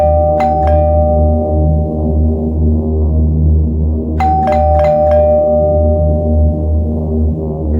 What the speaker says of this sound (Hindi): तो मैंने कई बार डोरबेल बजाई